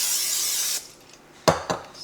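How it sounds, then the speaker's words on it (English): Cooking oil spritzed from a spray can into a bowl used for bread dough, a broad hiss for under a second followed by quiet, then two short close knocks, likely the bowl being handled. "gonna spray some oil in there and then put the dough back in the bowl"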